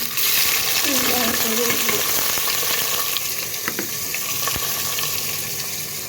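Sliced onions dropped into hot oil in a home kitchen pan, a loud steady sizzle and crackle filling the space close up, with a few clinks of a utensil and a faint voice.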